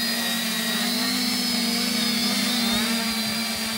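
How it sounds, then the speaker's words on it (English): Motors of a Naze32-controlled quadcopter whine loudly and steadily while it holds altitude, a close buzzing drone with a high tonal whir that wavers slightly as the motors adjust, continuous for the whole stretch. "hear the motors revving"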